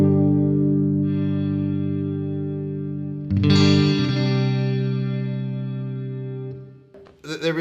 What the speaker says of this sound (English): It's like there's some delay. It's a complex reverb for 40,